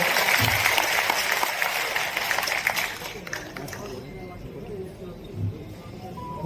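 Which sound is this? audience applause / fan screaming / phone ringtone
audience applause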